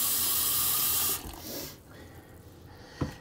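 Tap water runs loudly and steadily into a cooking pot for about a second and then stops, leaving faint kitchen handling sounds and a small knock.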